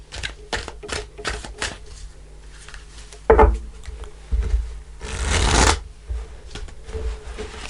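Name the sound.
tarot cards being shuffled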